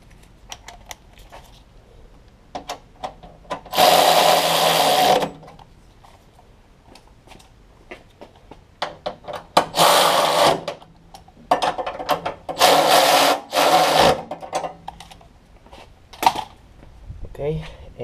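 A wrench tightens bolts on a Honda Civic FA5 engine during an engine block replacement, giving bursts of ratcheting clicks separated by pauses, close and fairly loud, with some scattered metallic handling noises.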